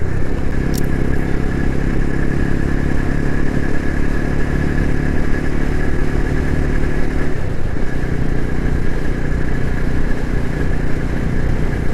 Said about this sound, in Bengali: বাইকের স্পিড একদম 40-এর মধ্যে রেখেছি আমি এখন